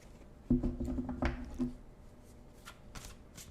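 Fairy Tarot card deck being shuffled up close, a crisp riffling burst followed by lighter, scattered card taps and slides.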